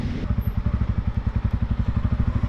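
A TVS Ronin 225 motorcycle idles in neutral, its single engine thumping in a fast, even pulse close by with no other sound over it.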